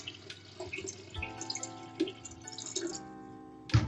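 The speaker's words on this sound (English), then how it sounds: "Water's on." Water runs from an indoor tap into a sink, a fairly close splashing stream with scattered drips and a few sharp clinks, the pitch of the flow shifting slightly as it fills; no one speaks.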